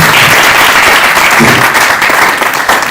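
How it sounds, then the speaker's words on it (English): Loud, dense audience applause welcoming a panelist at a FinTech cybersecurity and fraud summit, a steady wash of many hands clapping close to the microphone throughout, with no speech. "Please, a round of applause for Dr. Ojam."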